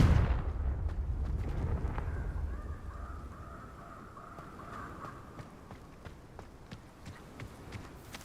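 Confringo spell explosions in Hogwarts Legacy burst as a deep booming rumble at the start, then fade into a faint sustained magical hum dotted with scattered sharp cracks and impacts, with no talk.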